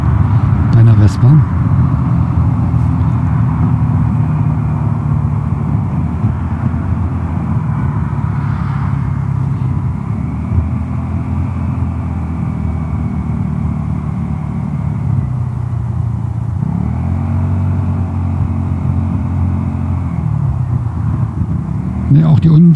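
A Vespa GTS 300 scooter with Tech Pulley variator rollers rides along with a steady, smooth engine drone that swells and settles with throttle changes, while someone talks over it throughout.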